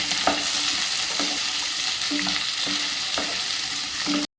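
A chilli mixture sautés in a pan for chilli chicken, a steady, close sizzle with a regular rhythm of scraping stirs about every second, and no talking.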